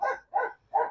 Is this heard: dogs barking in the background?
yes